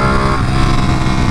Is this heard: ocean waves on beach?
no